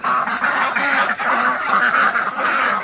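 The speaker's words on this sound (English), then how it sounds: "There's ducks in the snow." Several ducks quack loudly and continuously up close in the snow, a busy overlapping chorus of nasal calls.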